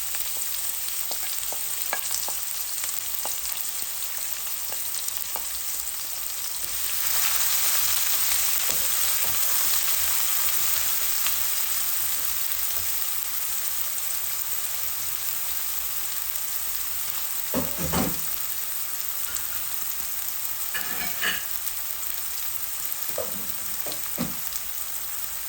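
Red onion frying in a pan with garlic and cumin for a Bengali prawn and vegetable bhuna, a steady broadband sizzle throughout with occasional louder stirring scrapes and crackles.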